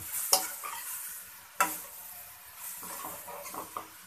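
Chicken stir-fries fast in a pan over a high flame, with a soft steady sizzle and several sharp utensil scrapes and clacks against the pan, all close and fairly quiet with no voices.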